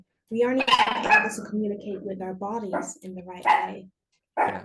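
A pet dog barks in the background during a conversation, partly buried under someone talking steadily.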